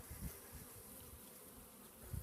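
Honey bees hum steadily around a small nuc hive, a soft close buzz with faint swells and no talking.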